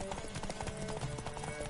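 Horse hooves clip-clopping at a steady quick trot in The Witcher 3, close and clear, with a voice speaking over the rhythm.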